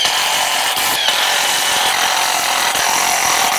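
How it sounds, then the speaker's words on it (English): A power driver sinks framing screws into a large wooden truss, giving a loud, continuous grinding whir up close, with a short break partway through. "And now we can screw these end pieces in with four more of those framing screws."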